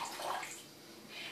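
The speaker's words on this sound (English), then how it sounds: "So I'm just going to squeeze a little lemon juice here" Squeezed lemon juice poured into a bowl for homemade mayonnaise, a faint, soft liquid trickle and splash up close.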